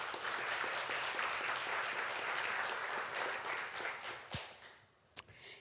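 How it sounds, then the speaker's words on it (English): Sustained audience applause for a panel of women crime scene investigators in Las Vegas, a dense even wash of clapping that slowly thins out, ending with a couple of sharp knocks. "Please give all of our panelists a round of applause."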